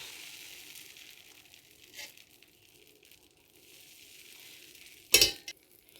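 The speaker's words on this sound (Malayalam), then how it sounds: "ഇതിലേക്ക് ഞാനിപ്പോൾ മാവ് ഒഴിക്കാൻ പോവാണ്. ചട്ടി ചൂടായിട്ടുണ്ട്. മാവ് ഒഴിച്ച് കൊടുക്കാം." A faint, soft sizzling hiss as appam batter is poured into a hot pan, ending with a brief sharp clatter near the close.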